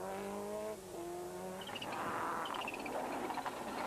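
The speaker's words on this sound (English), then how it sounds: "Lots of turbo whistling from Steve Fleck." A rally car at the 2003 West Cork Rally passes with a high turbo whistle over its engine note, whining tones rising and falling repeatedly as it accelerates close by.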